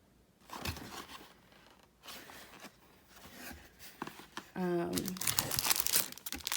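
Cellophane packaging crinkled and handled during an unboxing of craft supplies, bursts of crackly rustling that grow louder and denser toward the end, close by, with brief soft handling noises between.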